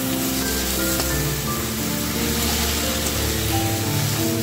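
Steady, dense sizzling of boiled susni greens frying in a pan with onion and garlic, continuous and close throughout with no talking.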